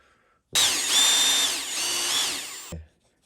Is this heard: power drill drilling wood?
yes